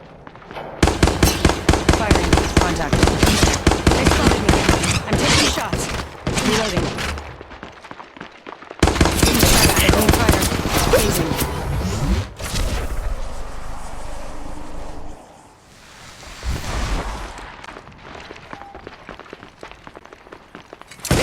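Battle royale video game combat: dense bursts of rapid gunfire with loud blasts from grenades, pausing between volleys, with voices talking over parts of it.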